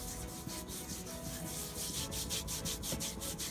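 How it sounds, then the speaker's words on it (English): A heel is scrubbed briskly during a DIY foot scrub, producing continuous close rubbing and scratching with quick repeated strokes. The sound is fairly loud and no one speaks. "I'm going to scrub briskly around my heel, both inside and the outside."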